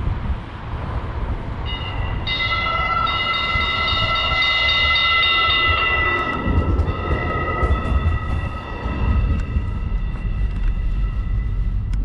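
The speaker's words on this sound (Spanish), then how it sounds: "Ha visto peligro el tranvía" A tram in Bizkaia sounds a long, loud, tonal warning horn over the low rumble of street traffic. The horn starts a couple of seconds in and holds, wavering, nearly to the end.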